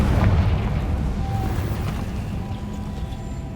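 A Confringo spell blast in the Hogwarts Legacy video game, a deep rumbling explosion that booms at the start and then rolls on as a low, fading roar, with no voices.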